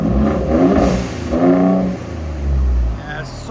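A 2019 Ford Raptor with a 3.5L twin-turbo V6 and loud exhaust is revved hard three times nearby, each rise a rasping surge that then falls back to idle.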